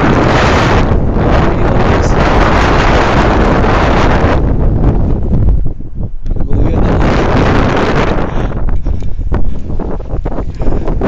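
Strong wind buffets the microphone in a loud, continuous roar that dips briefly midway before surging back.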